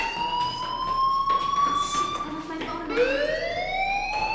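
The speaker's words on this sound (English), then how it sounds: "do you hear that fire alarm? That means you should be outside." A loud, steady electronic fire alarm wails continuously in the video game Life is Strange, its rising whooping tone repeating in an indoor school setting with no one speaking.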